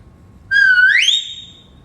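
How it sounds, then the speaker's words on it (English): A single clear whistle, steady at first and then sliding upward in pitch before fading, loud and close against quiet surroundings. "with a whistle"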